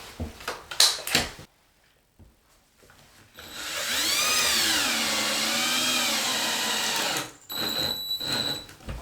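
A power drill drives a screw into a plywood floor, whining as it rises and falls in pitch for about four seconds, bracketed by knocks and handling noises.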